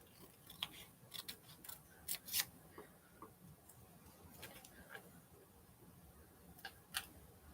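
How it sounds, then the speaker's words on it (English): Scissors snipping a picture out of a printed book page, a string of quiet, crisp, irregular cuts and rustles of paper, close by with no talk. "Let's just cut that out of a story, out of a book."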